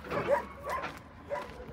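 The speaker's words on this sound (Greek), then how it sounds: "Εδώ βλέπουμε έναν μεγάλο σκύλο. Αρκετούς μεγάλους σκύλους." Dogs at a large dog shelter in Ierapetra let out three short, soft barks and yips at a moderate distance, fairly quiet and spaced within under two seconds.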